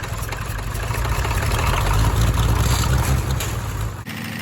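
A cold diesel tractor engine runs with a steady low rumble after glow-plug starting, close and fairly loud, then cuts off abruptly near the end.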